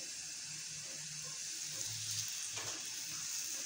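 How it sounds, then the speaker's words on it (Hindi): Aloo paratha frying in oil on a flat pan gives a steady, quiet sizzling hiss that carries on evenly from start to finish, with faint pan clinks underneath and no voices. "अब अच्छी तरह से इसको अच्छी फ्राई कर लेते हैं हम लोग"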